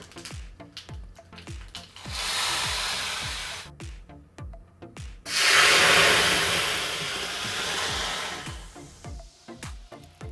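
Mustard seeds and cumin hit hot oil for a rasam tempering, a loud broadband sizzle in two bursts with crackling pops scattered throughout, close up and without talk.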